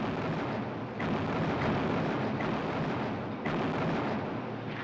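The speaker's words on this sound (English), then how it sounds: "For a week, the atolls were bombed by carrier-based aircraft." Carrier-based aircraft bomb Pacific atolls in WWII, heard as heavy rumbling explosions under a continuous dense roar, with several sharper blasts breaking through at intervals.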